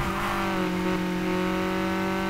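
A Honda Civic Type-R engine in the video game Need for Speed Heat revs at a steady, high pitch, loud and close, with a smooth mechanical drone throughout.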